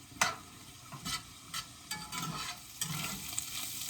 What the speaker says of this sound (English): Let this finish up frying.